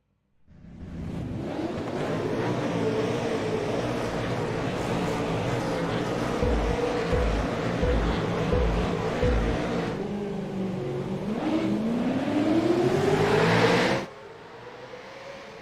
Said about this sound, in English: All cars have launched well.